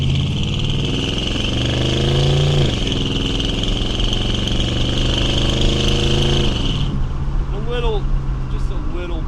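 Engine of a 1969 Buick Riviera running under heavy load, a steady loud drone with rising and falling pitch sweeps, with speech-like tones over it and a sharp drop in intensity near the end.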